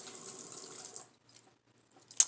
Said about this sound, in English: pump the water out of the hose.